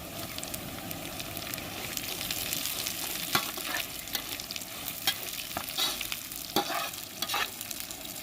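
Poppy seed paste fried until reddish with fried onion (birista) added, cooking in a pan with steady sizzling and repeated scraping stirs close up, no voices.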